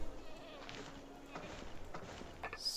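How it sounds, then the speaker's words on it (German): A small goat bleats in the city-building game Anno 1404, a faint, brief cry set against quiet in-game ambience. "Eine kleine Ziege."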